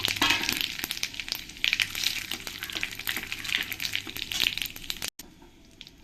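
Cumin seeds, dried chilli and bay leaf fry in hot oil, a close sizzle peppered with sharp crackles and pops that cuts off abruptly before a quieter hiss.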